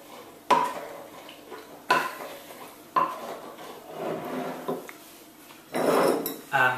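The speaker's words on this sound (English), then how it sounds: "And now give it a mix." Spicy sauerkraut being mixed in a bowl: sharp clinks of a utensil against the bowl at intervals, followed by rough scraping and stirring and a longer rattling clatter near the end, close and moderately loud.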